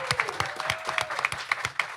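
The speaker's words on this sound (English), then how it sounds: "Please give a round of applause to our three panelists" Audience applause for three panelists at a literary festival session on reimagining the epic, steady clapping throughout with a few louder claps standing out near the listener.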